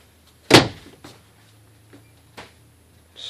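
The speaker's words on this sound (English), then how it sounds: "Sliding doors." Sliding wardrobe closet doors in a 2006 Keystone Montana 3400 RL fifth-wheel RV close with one sharp, loud thud, followed by fainter rolling clicks and light knocks nearby.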